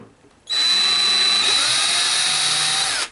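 A power drill whines loud and close as it bores a pilot hole in pipestone, one steady high-pitched run of about two and a half seconds that starts and stops abruptly.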